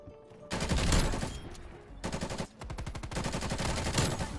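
Sustained automatic fire from a LAPA submachine gun in Call of Duty: Black Ops Cold War multiplayer: long, loud, close bursts of rapid rattling shots broken by short pauses.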